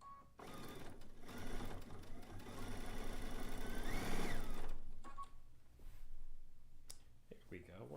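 Sewing machine stitching a zig zag quilt, a fast continuous mechanical whir rising in speed, stopping, then briefly resuming, with a voice talking softly at the end.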